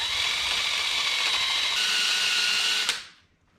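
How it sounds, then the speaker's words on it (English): Worn Scotch-Brite wheel on a power tool scrubbing an old metal surface, a steady loud whirring grind that stops abruptly near the end and spins down into quiet. "We're gonna see how this old Scotch-Brite wheel, or what's left of the Scotch-Brite wheel,"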